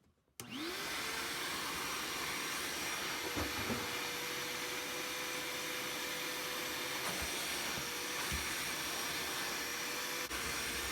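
A small Bauer shop vacuum switches on and runs steadily with a loud, even whooshing roar and no other sounds.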